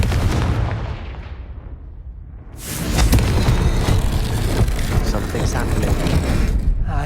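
A Confringo fire spell explodes in Hogwarts Legacy as a loud booming blast that swells into a sustained rumbling roar, with a voice heard.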